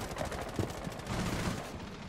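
Rapid gunfire in Rainbow Six Siege crackles as dense overlapping shots, with a loud burst near the start and sustained firing throughout the short stretch, without any talking.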